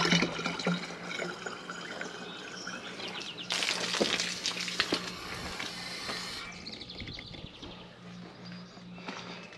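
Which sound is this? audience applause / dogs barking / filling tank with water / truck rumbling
filling tank with water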